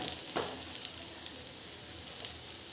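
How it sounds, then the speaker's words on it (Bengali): Fish roe fries in a pan of hot bubbling oil, giving a quiet, steady sizzle with occasional sharper pops and crackles, heard alone without talk. "চারিদিকটা তেলটা দেখো ফুটছে।"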